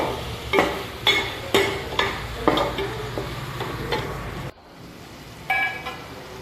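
Potatoes sauté in oil with an onion-tomato gravy while a spatula scrapes and stirs the pan in a regular rhythm of sharp knocks, over a soft, steady sizzle.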